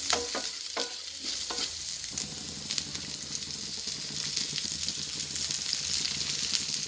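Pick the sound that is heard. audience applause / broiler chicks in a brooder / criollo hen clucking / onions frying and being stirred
onions frying and being stirred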